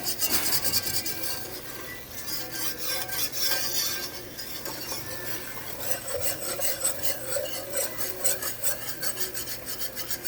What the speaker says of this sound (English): you definitely want to scrape the pan as you go